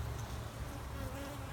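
Honey bees buzz around an open hive during hive maintenance, a steady low drone that carries on alone and fairly faintly throughout.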